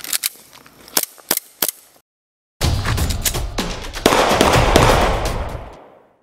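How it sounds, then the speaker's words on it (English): Gunshot sound effects for prop guns in a film: a few sharp isolated bangs, a brief gap, then a dense burst of rapid overlapping shots with a rumbling tail that fades out. "create a more realistic gun shooting effect"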